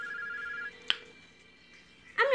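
A telephone ringing on a call, heard as a single fairly quiet ring tone with a soft click partway through and a brighter tone burst at the end.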